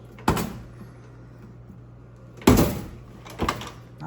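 A 1966 Shelby GT350 car door shuts three times, each a sharp thud separated by quiet gaps, the second hit the loudest and fullest.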